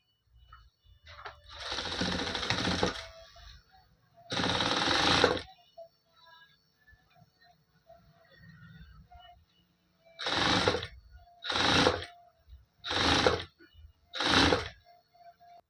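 A sewing machine stitches piping onto a blouse neckline in six separate bursts, two longer runs and four shorter ones, close up and fairly loud, with quiet pauses between them and no voices.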